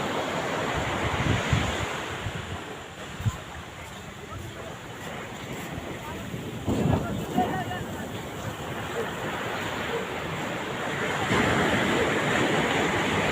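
Sea waves roll and break at Puri beach in a continuous rushing wash, with swells rising and falling and wind buffeting the microphone, nearby and loud.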